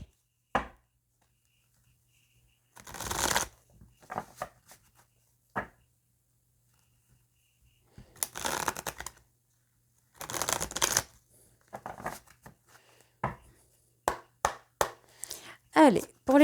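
Tarot cards being shuffled and cut in bursts of riffling and slapping, separated by quiet pauses, with sharper taps and flicks near the end and a voice speaking intermittently.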